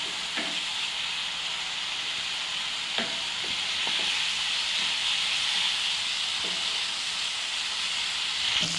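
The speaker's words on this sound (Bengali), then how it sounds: "এবার সব কিছু দিয়ে মশলাটা ভালো করে আমরা কষে নেব।" Spice masala sautéing in hot oil for Bengali-style chicken kosha, a steady close sizzle and hiss with occasional soft scrapes of a stirring spoon against the pan, no talk.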